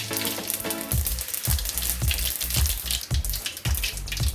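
Mustard seeds crackle and sizzle in hot oil in a pan, a steady frying hiss broken by sharp low thumps every half second or so.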